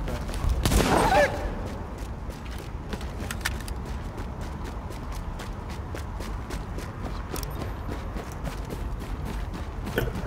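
Gunfire in the video game Tom Clancy's The Division, with a loud burst of shots up front followed by a long string of sharp, evenly spaced single cracks over a busy rumbling background.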